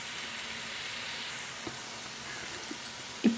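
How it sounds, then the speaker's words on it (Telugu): Onion pieces frying in a pan until browned give a steady, soft sizzle with a few light clicks of a spoon near the end, no voices. "ఈ ఉల్లిపాయ ముక్కలు బ్రౌన్ కలర్ వచ్చేంత వరకు కూడా వేయించుకుందాం."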